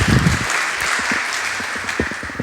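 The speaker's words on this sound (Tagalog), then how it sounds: "Okay, masipang palakpak para sa Diyos." A church congregation claps during a Sunday afternoon service, a steady wash of applause that continues after a few brief spoken words at the start, moderately loud and filling the room.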